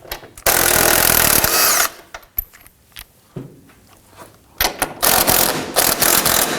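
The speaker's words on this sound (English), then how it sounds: "hold the bumper in place while we loosen and remove the nuts on the other side" A ratchet loosens the lower bumper nuts on a 2015-2020 Ford F-150: loud, close bursts of rapid clicking separated by quieter pauses and a few sharp single clicks.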